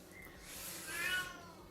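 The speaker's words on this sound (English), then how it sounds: "Sorry about the cat." A cat meows once, a faint drawn-out cry heard from a little distance over a low room hum.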